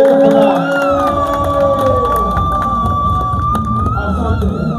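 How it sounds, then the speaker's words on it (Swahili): A crowd at the launch ceremony of a media company in Rukwa, Tanzania, cheers and claps loudly and continuously, with shouts and whistling rising above the steady roar. "Makofi na uelekele tafadhali"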